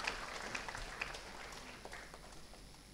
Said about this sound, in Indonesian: Tepuk tangan untuk DPRD Provinsi Selatan.